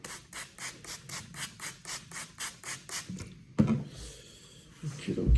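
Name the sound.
straight razor freehand honing on 3K whetstone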